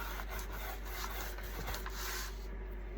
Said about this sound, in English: now I'm going to take some brown Jolie top coat wax